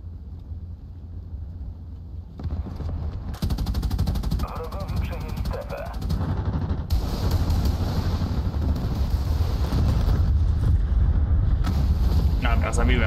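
Loud bursts of rapid machine-gun fire and booming explosions from a game battle, continuous and dense, with a voice talking underneath.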